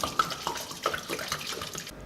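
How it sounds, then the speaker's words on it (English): Water is poured onto basmati rice to soak it for Pakistani biryani, producing a soft, steady splashing and trickling that stops abruptly after about two seconds. "Let's add in water and wait 1 hour."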